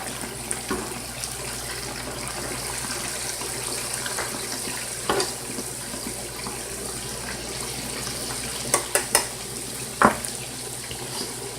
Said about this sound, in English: I'm just deep frying them.